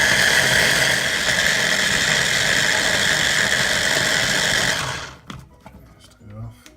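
A blender blitzes Thai green curry paste ingredients, a loud, steady high-pitched whirring roar that runs for about five seconds, then cuts off abruptly, leaving faint clattering and handling sounds.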